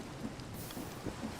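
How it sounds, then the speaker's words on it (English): Thunderstorm rain in the video game Minecraft is a steady, faint hiss of falling rain with soft low rumbling and scattered droplet ticks, heard alone. "And it's a thunderstorm, I think."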